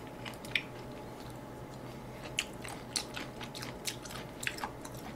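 Crisp, crunchy chewing of vegetables in homemade sweet and sour pork, a run of close bites and crunches over a steady low background hum, with no talking.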